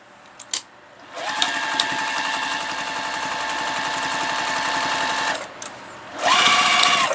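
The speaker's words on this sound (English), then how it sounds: "just kind of do like a top stitch to close that up" A sewing machine top-stitches along the folded edge of an ironing board cover in a close, loud, steady mechanical whir. It runs for several seconds, pauses briefly, then starts again.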